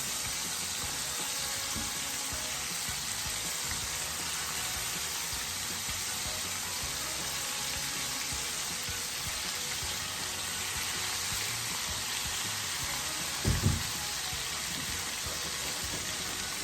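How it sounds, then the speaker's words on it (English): Chicken livers fry in a pan with a dense, steady sizzle that holds evenly throughout, with one brief clatter near the end and no voices. "They have been frying now for about 3 minutes."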